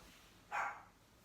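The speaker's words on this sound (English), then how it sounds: "Oh, shoot, that's my dog." A pet dog gives one short, muffled bark from another room, faint and distant against a quiet indoor background.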